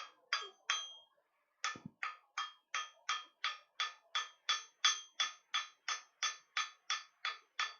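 Hot steel hammered on an anvil in a bladesmithing class: about twenty close, sharp, bright metallic strikes in a steady, even rhythm, with a brief pause after the first few.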